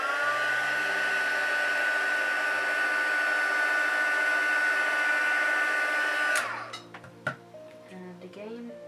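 A heat gun runs steadily and loud, a continuous blowing whoosh with a faint whine, heat-setting paint on a reborn doll, then cuts off abruptly near the end, leaving small handling clicks and bumps.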